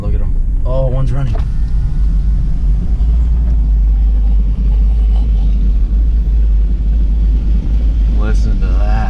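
A cigarette racing boat's engine runs at the Boyne Thunder powerboat event, a loud, steady low rumble that fills the whole stretch, with people talking excitedly close by.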